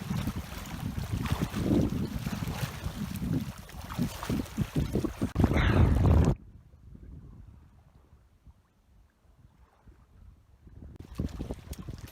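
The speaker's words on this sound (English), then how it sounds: "I have a little bit of breeze here, which can be pretty bad." Breeze gusts across a microphone on a Mediterranean shore at night, a rough, blustery rush that drops away into near quiet for a few seconds before picking up again.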